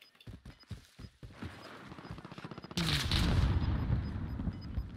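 Gunfire in the video game Warzone starts as a string of sharp, separate shots, then turns into dense, continuous rapid fire with booming blasts, loud and close.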